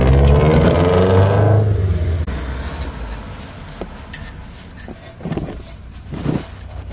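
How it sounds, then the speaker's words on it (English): Turbocharged Subaru STI pulls away outside, its engine note loud at first and then fading into the distance, leaving faint background noise with a few scattered knocks. "My neighbor's wife is leaving in her STI, so if you guys hear a turbo running in the background."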